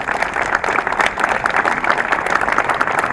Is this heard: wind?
no